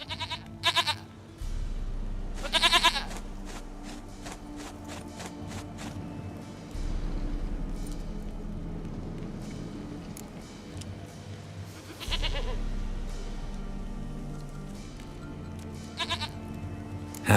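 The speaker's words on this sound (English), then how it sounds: "Goat of mine. Dearest, sweetest goat." Goat bleats from Witcher 3: Wild Hunt repeat in short bursts over steady game music and ambience, fairly close and moderately loud.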